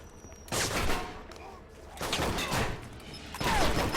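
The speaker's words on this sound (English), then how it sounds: "somebody's shooting at me" Enemy gunfire in the video game Alpha Protocol comes in three loud bursts of rapid shots separated by short pauses, with a voice talking faintly beneath.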